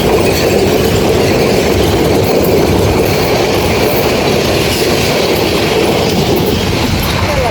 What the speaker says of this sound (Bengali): কিছুক্ষণের মধ্যে আরেকটা ট্রেন চলে এলো